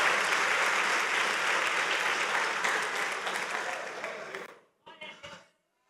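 A church congregation applauds during a sermon, a dense, steady wash of clapping that carries for about four and a half seconds, then breaks off abruptly, leaving a few scattered claps and faint sounds.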